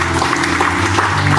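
Congregation applauding in a church service, a brief burst of many hands clapping together, loud and dense throughout.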